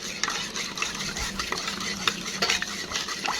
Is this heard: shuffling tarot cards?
no